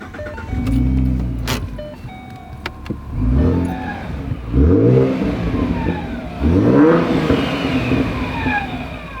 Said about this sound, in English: There's nothing like that cool whine of a supercharger.